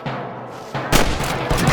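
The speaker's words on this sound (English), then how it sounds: "I can hear more gunshots." Gunfire in Red Dead Redemption, a Western video game, as deputies fight nearby: several loud, sharp shots crack out close by in quick, uneven succession over a steady background rumble.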